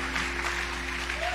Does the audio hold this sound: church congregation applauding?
yes